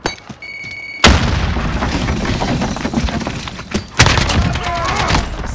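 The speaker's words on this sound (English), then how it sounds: "Throw a grenade." Grenade explosion in Call of Duty Modern Warfare multiplayer: a sudden loud boom that rumbles on, followed by further gunfire and a second blast amid battle noise.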